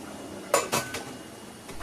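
A pressure cooker lid set onto a pot of khichdi, two sharp metallic clanks in quick succession followed by a faint rattle, close by and quiet otherwise.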